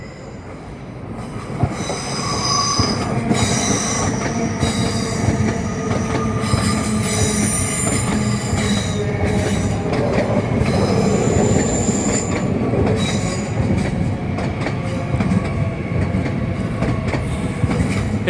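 A Class 801 train bound for Edinburgh passes Manors Station with a loud, sustained roar, high wheel squeals and rhythmic clickety-clack over the rails, close by and alone.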